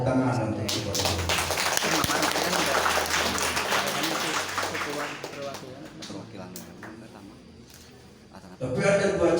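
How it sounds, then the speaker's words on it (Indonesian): Audience applause at a madrasah thanksgiving for Quran completion and the Prophet's birthday (Maulid Nabi), a dense, sustained clapping that runs for most of the clip, then thins and fades before a voice returns near the end. "Tepuk tangan untuk Ibaduluhur."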